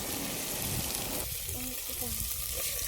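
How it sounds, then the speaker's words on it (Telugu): Soaked rice dropped into hot oil sizzles up briefly, then settles into a softer frying hiss, with someone talking over it in a village kitchen. "సో నూనె కాగినాక ఇట్లా నానబెట్టుకున్న బియ్యాన్ని గంజిలో వేసుకోవాలి."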